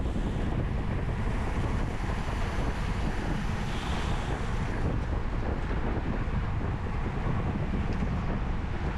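Heavy wind noise buffeting a rider's microphone in a strong headwind during a Cat 4/5 criterium bicycle race, a loud, constant low roar throughout with no talking.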